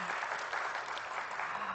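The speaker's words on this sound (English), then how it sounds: "Let's give a huge round of applause." Conference audience applauding the sponsors at an out-of-home advertising event, a dense, steady wash of many hands clapping throughout, heard from within the hall at moderate level, with faint speech beneath.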